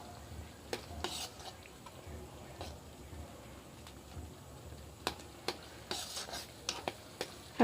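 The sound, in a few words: stirring masala in a pan for fish curry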